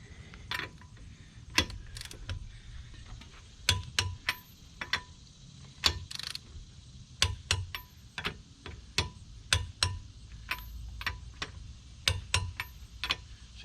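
Torque wrench tightening lug nuts on a 2012 Nissan Rogue 2.5 S, with sharp metallic clicks and ratchet ticks in quick irregular clusters, close up and fairly quiet.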